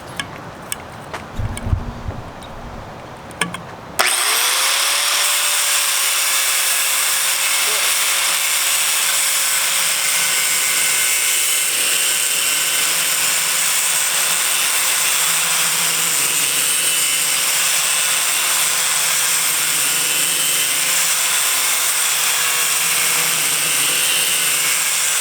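An angle grinder, used without its guard, cuts into a metal edge: a few seconds of close handling clatter, then a loud, sustained high grinding whine with a steady tonal hum that runs unbroken to the end.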